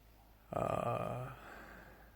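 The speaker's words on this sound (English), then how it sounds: "If you hear some grunting in the background, that's an English bulldog." An English bulldog gives a single throaty grunt, a short rough snort lasting under a second, against an otherwise quiet room.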